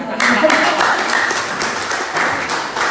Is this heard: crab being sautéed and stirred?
no